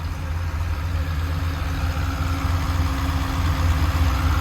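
A 2007 Corvette C6 Z06 with factory mufflers and an upgraded intake idles with a smooth, deep, steady rumble, close and moderately loud, with no voices over it.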